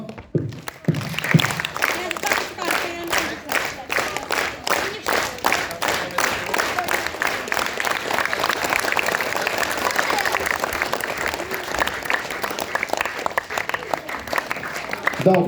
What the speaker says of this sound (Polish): A więc równo ze mną bijemy brawo.